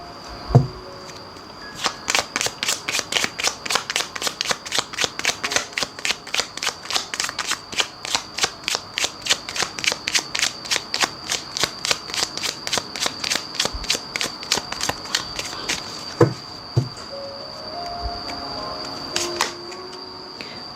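Tarot cards are shuffled close by in a long steady run of crisp riffling snaps, about twenty seconds of rhythmic flicks with no talking.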